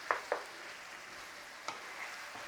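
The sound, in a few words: stirring frying vegetables with crumbled stock cube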